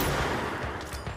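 A rapid burst of gunfire in the video game Control, dense and loud, with crackling shots rolling together for about a second.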